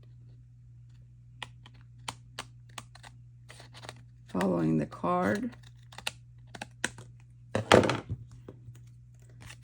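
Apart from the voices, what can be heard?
scissors cutting card stock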